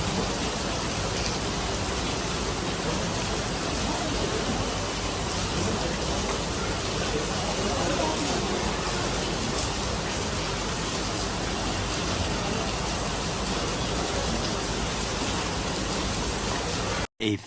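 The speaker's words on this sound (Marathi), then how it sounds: "इथं पाऊस पण भरपूर पडतो" Heavy rain pours down steadily and close by, a dense, unbroken hiss of drops on surfaces that holds at the same loud level throughout, with no voices.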